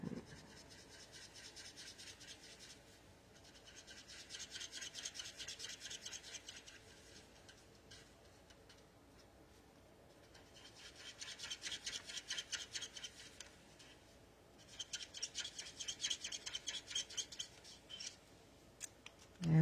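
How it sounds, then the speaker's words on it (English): Designer series paper being punched out with a 1 3/4 inch craft punch, heard as soft, quiet rasping and rubbing of paper and the punch in several bursts with no talk. "So that was punched out with the 1 3/4 inch punch."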